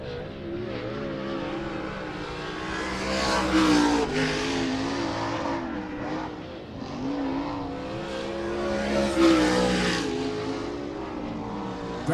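Late model race cars circling the track at I-96 Speedway during qualifying, engines droning loudly with rising and falling revs as cars pass, a sustained roar with no talk over it.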